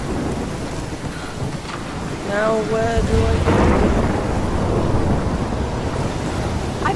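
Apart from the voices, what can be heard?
thunderstorm with rain in the video game Life Is Strange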